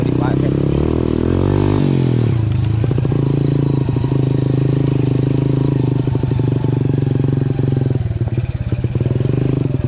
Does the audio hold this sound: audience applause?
no